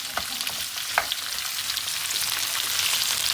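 Onions frying in a pan for a chicken curry give a steady close sizzle, with a couple of sharp scrapes as they are stirred.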